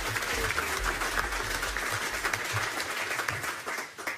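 Audience applause for two-time Olympic champion Marit Bouwmeester at a Frisian sports awards ceremony, a moderately quiet, continuous patter of clapping from a hall crowd with no talking over it.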